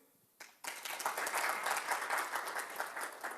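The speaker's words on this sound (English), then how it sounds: "So, this team, clap vote, please." An audience at a 2010 speed debate event bursts into applause to vote for a team. After a brief clap, loud, dense clapping swells and holds steadily.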